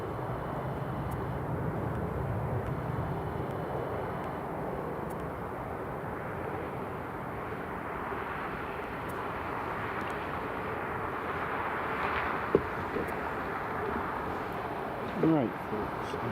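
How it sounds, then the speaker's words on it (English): A Ryanair airplane touches down at Edinburgh Airport, a broad, distant jet roar rumbling steadily throughout, with a person talking over it. "Ryanair just touching down"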